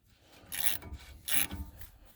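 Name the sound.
socket rotating to tighten rear hub retainer nut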